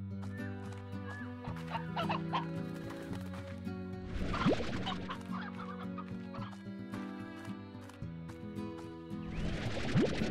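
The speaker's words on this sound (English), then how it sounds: "so many chickens!" Many chickens cluck and gobble over steady game music in the video game Slime Rancher, the bird calls overlapping in irregular bursts at moderate volume.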